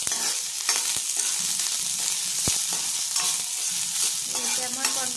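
Onions frying in mustard oil in a hot kadai, a steady loud sizzle with occasional stirring scrapes and clinks throughout.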